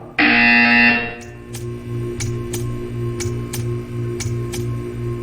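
A loud electronic buzzer from Portal 2 blares for about a second, then stops, leaving a steady hum with faint, regular ticking clicks.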